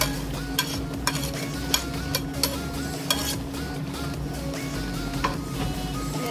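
Mushrooms going into a simmering fish soup with fermented bamboo shoot, with occasional clinking taps over a constant low bubbling, boiling rumble.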